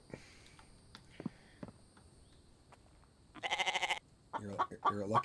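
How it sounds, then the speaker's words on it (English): Goat bleats in the survival video game The Infected, two loud wavering calls following quiet ambient thuds and clicks, fairly close. "Oh, there's a goat."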